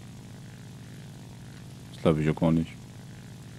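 Propeller aircraft engine droning in the flight combat game War Thunder, a steady low hum running throughout, with a brief burst of German talk over it.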